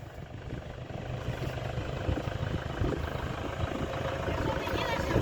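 A Toyota Hilux idles nearby with a continuous low, throbbing engine rumble that stays steady, while a faint voice is heard in the background.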